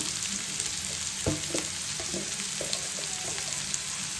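Sliced onions frying in a pan for Ongole-style fish curry, a steady close sizzle with a few soft stirring knocks, no voices.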